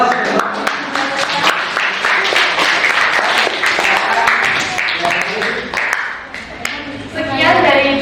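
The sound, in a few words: audience applause for presenting group 1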